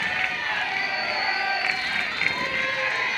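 A crowd cheers and shouts at an NCAA softball regional game between Santa Barbara and Arizona State, sustained roaring energy from the stands with bursts of whistles, with a commentator's voice faintly underneath.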